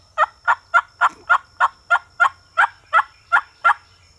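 A wild Osceola turkey gobbles repeatedly, about a dozen evenly spaced calls in a steady rhythm, clear and fairly close against a faint low background hum, in Florida.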